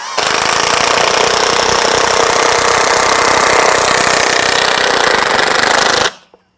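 A Milwaukee M18 FUEL 1/2-inch high torque impact wrench drives a 3/8 by 6 lag bolt with no pre-drilling, giving a loud, close, unbroken rattling hammer for about six seconds before cutting off abruptly.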